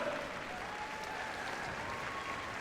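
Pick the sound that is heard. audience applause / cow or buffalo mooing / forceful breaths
audience applause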